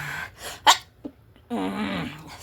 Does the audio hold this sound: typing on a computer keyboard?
no